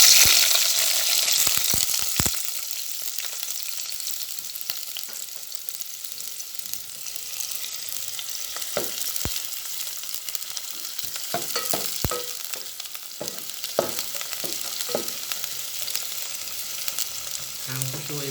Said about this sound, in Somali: hadda waxaa u horeeya oo aan ku shubayaa bashashii.